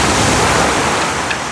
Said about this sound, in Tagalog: Ang malaki ang alon.